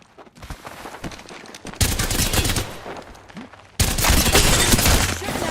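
Rapid gunfire bursts in an Old School RuneScape player-versus-player fight, dense loud fusillades that jump in intensity twice, heavy continuous firing crackle close up with no speech.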